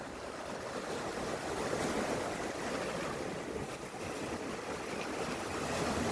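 Steady broadband wash of sea waves with wind, continuous and fairly loud, no voices.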